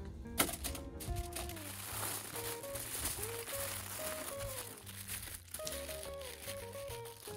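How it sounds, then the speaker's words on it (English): Tin foil crinkling and crumpling as it is wrapped around a bundle of willow sticks, a continuous close crackle with sharp rustles, heard over background music. "So I'm going to bundle them up in a nice little tin foil wrap."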